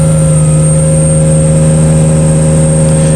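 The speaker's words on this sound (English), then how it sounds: "all you're going to do is smoothly go to wide open throttle" A car engine held at wide open throttle on a chassis dyno, a loud steady drone with strong engine harmonics, close and sustained without change in pitch.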